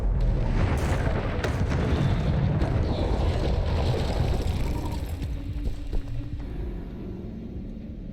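An Incendio fire spell cast in Hogwarts Legacy, a dense roaring whoosh of flame with rumbling low booms that holds strong for several seconds, then gradually tapers off.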